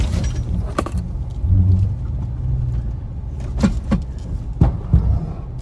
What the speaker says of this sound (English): Put in low gear and ride real light on the brake.